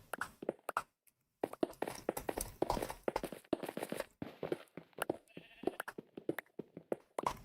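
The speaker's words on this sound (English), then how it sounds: "I can hear sheep" Repeated sheep bleats in Minecraft, scattered among quick clicks and footstep-like taps in a busy, steady rhythm.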